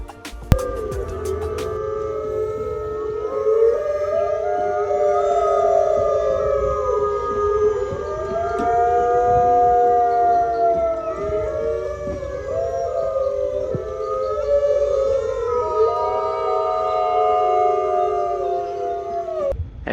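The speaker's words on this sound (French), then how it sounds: "nous allons aller écouter les loups arctiques" A pack of arctic wolves in a zoo enclosure howls together, several long rising and falling voices overlapping in a sustained chorus, fairly loud and close, with no talking.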